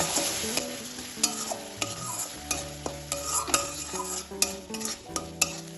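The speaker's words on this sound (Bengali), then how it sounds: "সব মশলা তেলে ভালোভাবে কষিয়ে নিয়েছি" Spices and ground mustard paste sizzle and fry in oil for an okra (bhindi) mustard curry, with steady crackling and repeated scraping stirs of a utensil against the pan, close and busy throughout.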